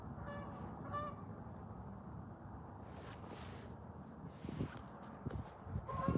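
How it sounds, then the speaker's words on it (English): A flock of geese honks as the birds come in to land on a lake, several overlapping calls rising over constant outdoor background noise. "They're just landing right now on the lake."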